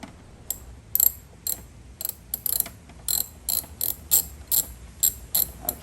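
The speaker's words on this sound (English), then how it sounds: "Then you loosen the black battery terminal." A ratchet loosens the black negative terminal on a car battery, giving a series of sharp, close clicks in short uneven bursts with brief pauses between strokes.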